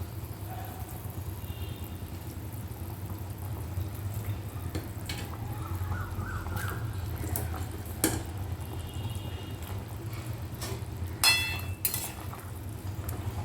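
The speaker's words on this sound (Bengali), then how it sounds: "মাছের টুকরোগুলো দিয়ে একটু মিশিয়ে নেব" Fried fish pieces are stirred into a curd gravy in a pan, with soft wet sloshing and a few light utensil clinks against the pan, fairly quiet and steady with no talking.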